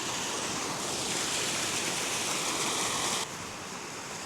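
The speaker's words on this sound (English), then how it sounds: "So the water doesn't usually flow this fast." Fast-flowing creek water rushing along a flooded bush track in Australia, a steady broadband roar that stays loud and close throughout, dropping slightly in level near the end, with no voices.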